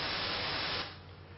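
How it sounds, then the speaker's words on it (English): Steady broadband white noise hiss, a repeated sample from an auditory learning experiment, plays alone at even loudness and then drops slightly softer partway through. "so you have learnt some white noise."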